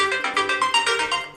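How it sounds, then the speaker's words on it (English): The Orbit ringtone plays on a Samsung Galaxy S20 Ultra phone, a bright, clear melodic pattern of quick repeating chime-like notes, loud and close, with no talking. "So I will pick Orbit."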